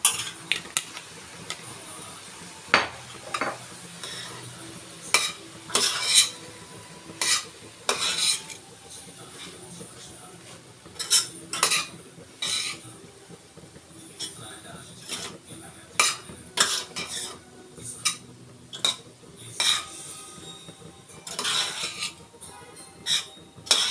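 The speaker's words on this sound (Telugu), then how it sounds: "ఈ అన్నము వేడయ్యేంత వరకు కలుపుకోవాలండి." Veg fried rice is stirred in a pan, with irregular clinks and scrapes of a utensil against the metal over a faint sizzle, close and fairly quiet, with no talk.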